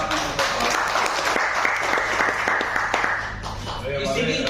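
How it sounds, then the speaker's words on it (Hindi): Sustained applause from a large audience at a journalists' association seminar, many hands clapping together at an even, loud level, with voices mixed into the noise. "मैं चाहूंगा एक जोरदार तालियों से"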